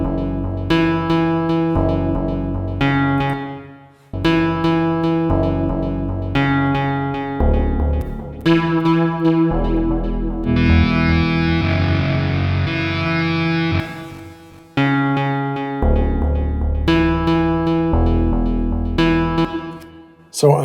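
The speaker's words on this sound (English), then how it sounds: "one of the things that made it sound bassy was choosing this synth FM bass preset for the tone." Synth FM bass preset playing a distorted guitar-style riff generated by Riffler in Logic Pro for iPad, repeating punchy chopped phrases with sustained tones, loud and alone.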